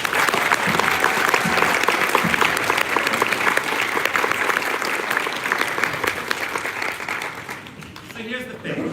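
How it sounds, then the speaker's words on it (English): An audience at a Maine Department of Education event gives sustained, dense applause that fills the room and tapers off near the end as a voice starts speaking. "How about a round of applause for that?"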